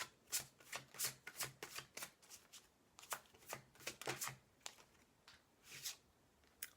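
Oracle cards riffle and shuffle in a quick series of crisp, papery bursts, close and fairly quiet, repeating irregularly with short gaps between them.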